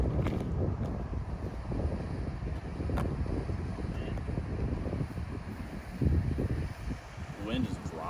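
Wind gusting across an outdoor disc golf course buffets the microphone with a continuous low rumble that swells and dips, and a person talks over it.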